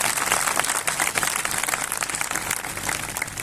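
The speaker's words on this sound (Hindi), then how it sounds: "जोर से ताली बजा के प्रभु को धन्यवाद दें।" A congregation at a Christian fellowship convention in Umarpata claps in a sustained burst of dense, crackling applause from many hands that fills the hall evenly for a few seconds.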